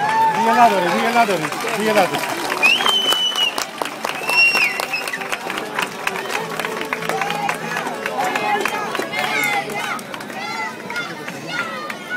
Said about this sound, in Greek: θερμό χειροκρότημα για τα παιδιά